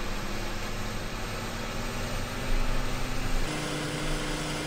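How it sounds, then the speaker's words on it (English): A tractor engine runs at full RPM in Farming Simulator 15, giving a steady droning hum with a constant buzzy tone that shifts pitch slightly partway through, with no talking. "this tractor at full RPM, it doesn't produce the best sounds ever"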